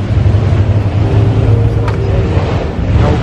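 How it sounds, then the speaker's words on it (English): An old car engine runs in the background at the 2023 Goodwood Festival of Speed: a loud, steady low rumble and drone that persists throughout with no pauses. "The old car just started up in the background, so this has made a rather lot of noise."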